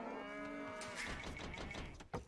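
Cattle mooing in the Age of Empires 2 strategy game, a loud sustained moo with clear harmonic tone running through most of the clip, followed by brief game clicks near the end.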